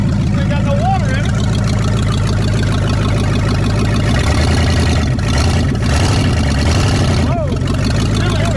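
A 1959 Ford Galaxie with a 352 V8 runs with no exhaust hooked up, giving a loud, steady, rough mechanical drone close by that continues throughout while people talk over it.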